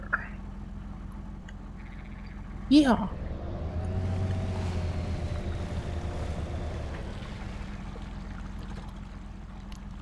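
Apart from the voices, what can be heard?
truck splashing through water in Spintires: MudRunner video game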